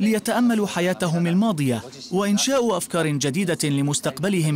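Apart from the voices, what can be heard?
No everyday noise stands out behind the speech.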